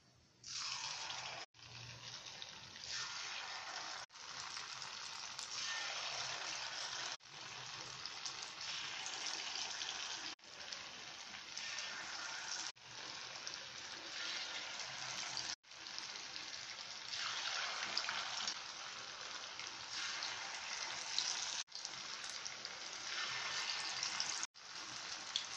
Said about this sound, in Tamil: பொரிக்க எண்ணெய் காய வச்சுருக்கோம்.